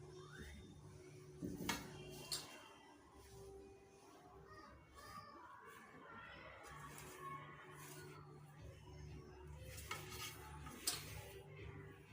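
Cardamom powder being stirred into a shengole ladoo mixture: soft scraping and occasional faint utensil clinks against the dish, fairly quiet over a low steady hum.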